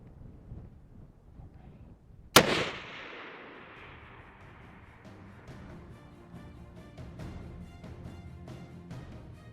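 A single loud hunting-rifle shot fired at a wild pig cracks out sharply, then rolls away in a long fading echo across open country, followed by quiet outdoor ambience.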